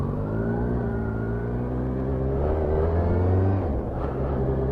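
A new motorbike's engine hums with a steady, smooth tone as it pulls away on a wet road during a test ride. The note rises gently and stays close and continuous for several seconds.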